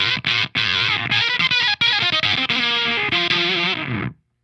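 Heavily distorted electric guitar through an effects pedal, played high on the neck, plays a gritty, chugging riff with choppy rhythmic stops, ending with a final ringing note that cuts off.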